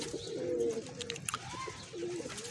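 Pigeons cooing at a Faisalabad pigeon-keeping loft, with low, throaty, rolling coos rising and falling in a few close phrases over steady background noise.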